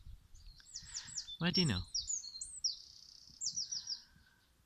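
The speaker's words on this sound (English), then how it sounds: "Just listen to the birds." Songbirds chirping and trilling on a clear spring morning in the Danish countryside, bright repeated phrases near and far, with someone briefly speaking over the calls.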